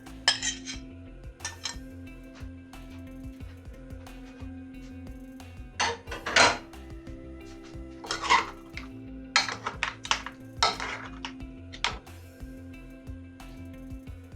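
Squid going into a pan of butter garlic mixed seafood, with metallic clinks and scrapes of utensils against the pan in irregular bursts over a steady low hum.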